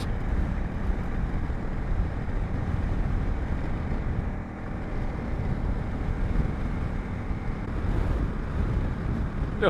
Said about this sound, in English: There's now a bit of wind.